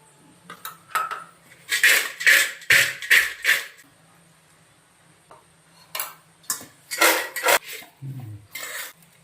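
Fried diamond sweets are shaken in a vessel with coloured jaggery syrup in bursts of rattling, clattering strokes: a run of loud rhythmic shakes, a pause, then a second series of close, vigorous shakes.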